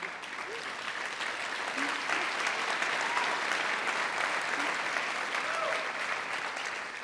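A crowd at a political speech claps in a continuous, even wash of applause, with faint cheers and voices rising now and then over the clapping.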